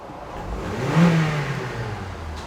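A Honda car, just repaired for a P2138 throttle code, accelerates smoothly; a steady mid-pitched engine note swells to a peak and eases back, heard alone without talk.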